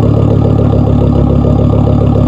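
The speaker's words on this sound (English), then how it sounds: "All right, we got a 5-cylinder V70 Volvo." A 5-cylinder Volvo V70 idling close by, a loud steady rumble with an even pulsing throb and no change in pace throughout.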